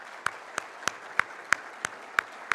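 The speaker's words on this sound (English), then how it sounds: "Big round of applause for folks at SHAC." At a coffee conference cupping-competition awards ceremony, one pair of hands claps near the microphone in sharp, evenly spaced beats, about eight claps in under three seconds over a quiet room.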